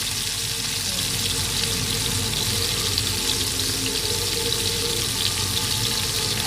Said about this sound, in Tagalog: tinakpan ko na po siya para mag-steam siya ng mga 1 minute